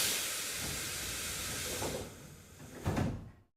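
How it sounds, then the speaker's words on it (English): Train doors sliding shut at a nearly empty station, a long broad hiss that swells and then ends in a loud pneumatic burst and thud before it cuts off. "The train doors close."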